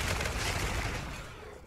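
Gunfire in the video game Call of Duty: Infinite Warfare comes as a brief, loud, dense burst of rapid shots that fades over under two seconds.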